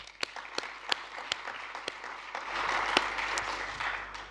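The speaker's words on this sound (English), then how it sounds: "a round of applause for yourselves" Sparse, scattered clapping from a small in-person audience at a science symposium on biodiversity stewardship, with distinct individual claps early that thicken into a brief fuller round.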